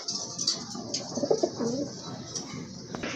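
Domestic Rajgolla pigeons of a local breed coo in a low, throaty burst near the middle, set against faint chirps and background noise.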